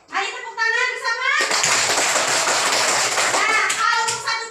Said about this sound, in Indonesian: Mari tepuk tangan bersama.